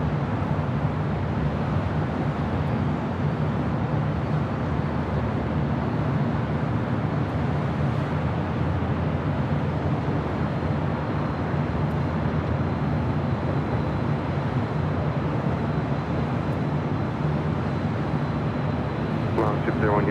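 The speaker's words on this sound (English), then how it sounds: "We got Finnair coming up from the north side at takeoff." A Finnair airliner takes off at Los Angeles LAX airport, producing a steady, broad jet roar that holds at constant loudness for the whole stretch, with a faint radio voice underneath.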